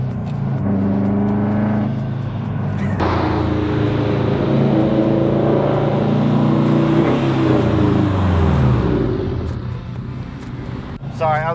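A Subaru STI with a loud exhaust drones and revs up through gears on a mountain canyon road, steady and close, with a brief voice near the end.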